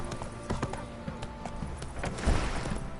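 Roach the horse in Witcher 3 clip-clops along in a steady, fairly close rhythm of hoof strikes over a low background, with one heavier thump near the end.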